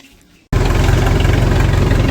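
A spray tractor's engine kicks in abruptly after a brief hush and then runs loud and steady nearby, a dense continuous low rumble with an even throbbing idle, no talk over it.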